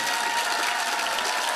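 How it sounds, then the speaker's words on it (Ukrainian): Dense, steady applause from a concert audience for the musicians of a live band, a continuous loud wash of many hands clapping with no voices. "А тепер ще раз великі оплески всій нашій музичній групі, всім музикантам, які для вас сьогодні працювали."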